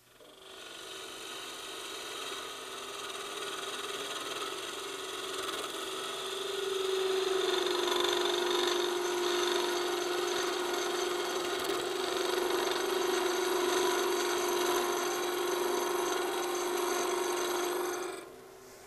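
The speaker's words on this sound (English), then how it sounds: "Now let's see the bull gouge do the thing the skew can do best." A bull gouge turns a wooden spindle blank on a lathe, making a steady whirring hum with a scraping cutting tone that strengthens after about seven seconds and then stops near the end. The sound is close and continuous, and there is no talking.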